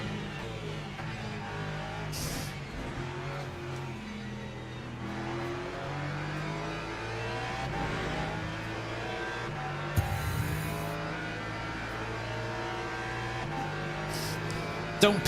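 A Lexus race car accelerating in a Le Mans racing video game, engine harmonics climbing through gear changes at full throttle, a steady loud drone with brief clicks and a sharp burst near the end.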